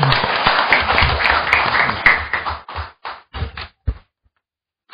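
A panel-discussion audience claps to welcome a construction economics official, a short burst of applause that thins into a few scattered claps and stops within about four seconds.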